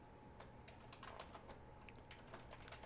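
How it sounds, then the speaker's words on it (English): A message is typed on a computer keyboard, a steady patter of quick, light key clicks in close succession, quiet and alone with no talk. "I'm just typing a message."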